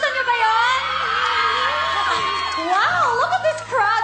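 Crowd cheering and shouting at a Kathniel appearance on the ASAP variety show, with high-pitched screams and whoops rising and falling while a voice talks over the noise.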